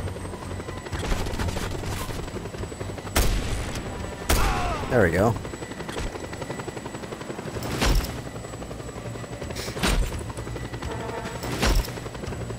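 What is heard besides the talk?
helicopter in a video game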